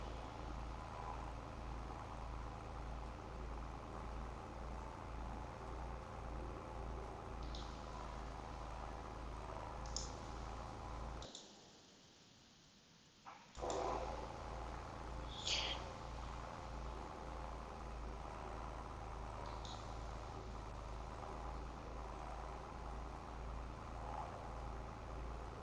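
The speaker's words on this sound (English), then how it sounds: "We shall follow this tractor around." Low, steady tractor engine drone from Farming Simulator 22, faint and continuous with a short silent gap midway and a few light clicks over it.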